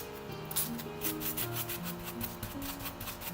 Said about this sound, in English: maybe with my nail I can scratch them off with no problem.